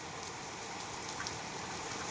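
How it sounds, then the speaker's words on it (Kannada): Heavy rain pours down in a steady, dense hiss, close and continuous with scattered brighter drop patters, no voices. "ಜೋರೈತ್ರಿ ಮಳೆ."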